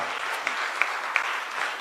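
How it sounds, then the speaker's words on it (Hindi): An audience at a Hindi comedy poetry gathering claps steadily, a moderately loud, even wash of applause with a few sharper individual claps standing out. "एक बार पूरा सदन दोनों हाथ उठाकर तालियां बजाकर मुझे आदेशित करें"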